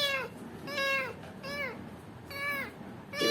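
A kitten with an injured leg meows repeatedly up close, about five high, drawn-out cries spaced through a quiet room.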